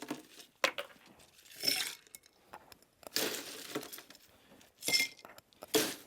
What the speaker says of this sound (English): Ice the glasses.